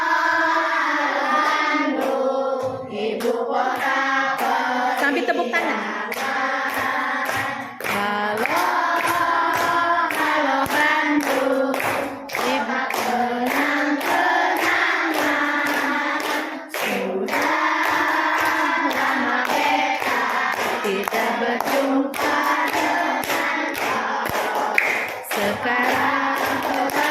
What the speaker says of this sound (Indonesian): Sambil tepuk tangan.